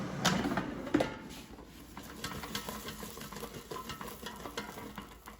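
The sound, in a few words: shaking mushrooms in an air fryer basket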